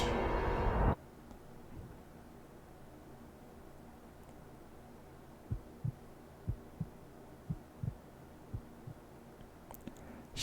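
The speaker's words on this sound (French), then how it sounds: "les bruits de battement de cœur là" Heartbeat sound effect in a Pokémon video game: faint, evenly spaced low thumps, about one every half-second to second, over a quiet hum after a brief louder burst at the start.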